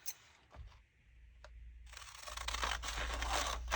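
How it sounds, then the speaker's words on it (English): Scissors cutting out small paper faux stamps, a few sharp snips at first, then a steadier crisp rustle and crunch of paper as the cutting continues, close up. "We're just going to cut all 3 of these out."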